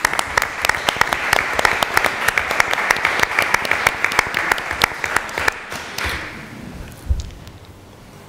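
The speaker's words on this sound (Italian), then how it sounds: "Un applauso veramente sentito," A concert-hall audience at a season presentation at the Normale applauds warmly for a woman named Elisa. Loud, dense clapping runs for about six seconds, then thins to a few scattered claps and a soft thump as the room quiets.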